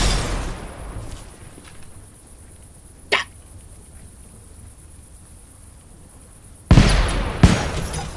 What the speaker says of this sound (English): That explosion hit me with such a force that I actually phased through a wall.